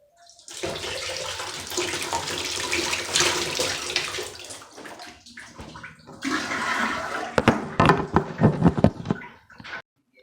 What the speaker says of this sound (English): I come here with this cup and I'm going to manually dump the water out of the cup into the toilet.